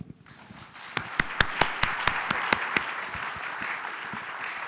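Applause from a conference audience thanking speakers and panelists at a health management plenary session, with a few sharp, loud claps standing out at first over a steady wash of clapping from the crowd.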